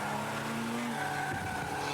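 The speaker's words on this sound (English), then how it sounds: "Now let's ride along with Duncan Johnson in his 87 BMW." A 1987 BMW race car at a Firestone Firehawk event at Shannonville, heard from onboard with a steady, loud engine drone and a tire squeal that rises and falls through the corner.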